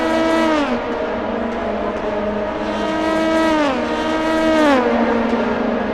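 Race cars roar past on track during a restarted race at the 2025 All For One 200 Mins at The Glen. Loud, continuous engine notes rise and fall in pitch as the cars accelerate and shift gears.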